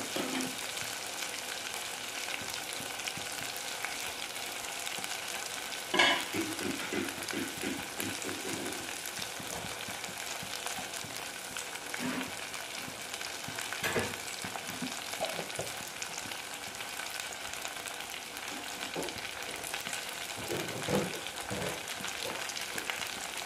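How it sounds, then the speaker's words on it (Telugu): Masala spices fry for a country chicken curry, a constant close sizzle and crackle with occasional stirring scrapes throughout. "ఒకసారి కలుపుకుందాం కొంచెం ఎర్రగా అయ్యేంత వరకు వేయించుకుందామండి"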